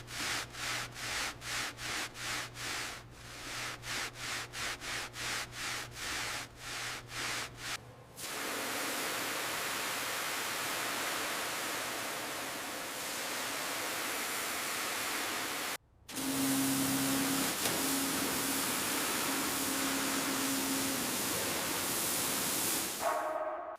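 A 1957 Jaguar XK150 gets a deep wash: a rhythmic run of close scrubbing or spraying strokes, then a long steady hiss of rushing spray that breaks off briefly and starts again, loud throughout with no talking.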